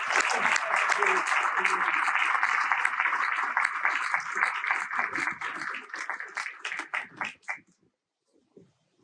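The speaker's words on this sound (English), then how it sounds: "Let's give a round of applause for all of them." A large crowd at a university commencement ceremony applauds steadily, with murmuring voices beneath. The applause later breaks into scattered individual claps that fade out into near silence.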